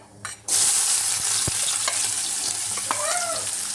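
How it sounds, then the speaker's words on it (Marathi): Chopped onion goes into a hot cumin tempering with a sudden loud sizzle, followed by steady close frying hiss and occasional stirring clicks in the pan. "जिरी मस्त तडतडली का परत कांदा टाकायचा"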